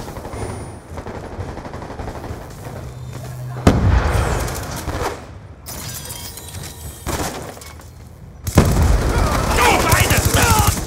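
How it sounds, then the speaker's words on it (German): Flashbang grenade bursting in the Black Ops 2 video game, sharp blasts and crackling impacts erupting amid ongoing gunfire and battle noise, with voices calling out over the action. "Blendgranate geworfen!"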